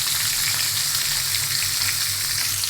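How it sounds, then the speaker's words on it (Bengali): A large puti fish fries in a pan, a loud, dense and steady sizzle that fills the whole moment with no voices. "আমি মাছটাকে এইভাবে পেঁচও ভেজে নিচ্ছি"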